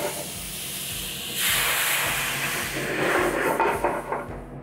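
Marsala wine poured into a hot pan to deglaze it bursts into a loud, steady steamy hiss that rises and keeps sizzling close up, with no talk.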